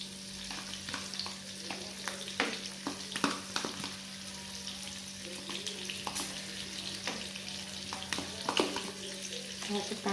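Tomato sauce sizzles in a frying pan while being stirred, a soft continuous frying hiss broken by frequent spoon scrapes, with a steady low hum beneath.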